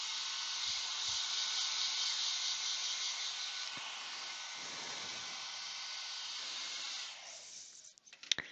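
A hair dryer blows in a steady, close whoosh over a tissue-paper fire bowl craft for about seven seconds, then switches off, leaving faint handling clicks.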